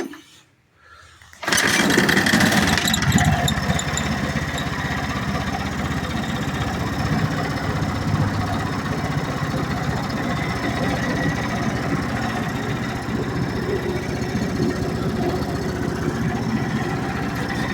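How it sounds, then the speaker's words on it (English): An Ariens Deluxe 30 fuel-injected snowblower engine is yanked by its pull cord, catches after a brief pause and then runs at a loud, steady idle-like chug for a long stretch, close by, with no talking. "We're going to pull start it"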